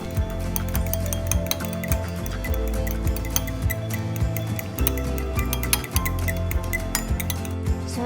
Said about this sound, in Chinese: 打入2颗鸡蛋， 加入少许盐，搅拌均匀。